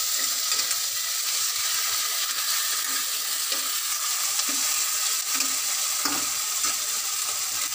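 Oil spatters and sizzles in a pan of frying onion with ginger-garlic paste, a steady close hiss with small pops scattered throughout and no voices.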